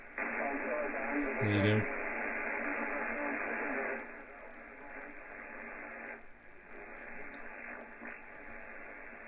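A distant radio station comes in through a loop-on-the-ground antenna, its signal sitting in steady hiss and static that fades somewhat partway through, with a person speaking briefly over it.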